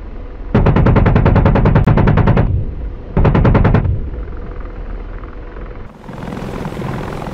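The AH-64D Apache's cannon in DCS fires two loud, rapid bursts of evenly spaced rounds, a long one and a shorter one, over the constant thrum of the helicopter rotor and engine.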